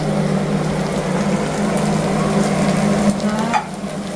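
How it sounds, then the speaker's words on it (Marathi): Spring onion frying in a pan over a high flame, a loud, dense, continuous sizzle close up with a brief stir or clink near the end. "हा पहिले आपल्याकडे कांदा फ्राय करून घेऊया. सगळं मोठ्या गॅसवर करायचं आहे."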